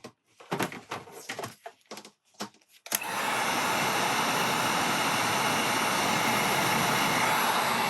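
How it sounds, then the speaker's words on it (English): A hot-air heat gun blows steadily and loudly onto chrome vinyl wrap on a Pro Boat Recoil 2 model boat, a continuous broadband whoosh starting abruptly after a few seconds of faint handling noises. "as I'm blowing warmth on it and it evaporates the moisture, they could stick down below"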